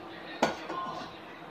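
A pan is set down on a kitchen stove with one sharp metallic clank, followed by softer shuffling. It happens while chutney tempering is being prepared in a home kitchen, with quiet talk nearby.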